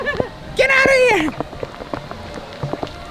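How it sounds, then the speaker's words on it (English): Heavy rain from Hurricane Dorian pattering on surfaces at Magic Kingdom, a dense close spatter of drops, with a voice calling out partway through. "Oh, it's starting to really rain."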